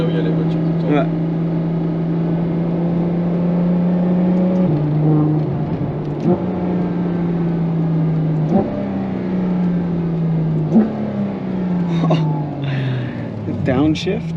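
A Ferrari F12 TDF's engine drones steadily from inside the car while driving, its pitch climbing and then dropping at several gear changes, with people talking over it.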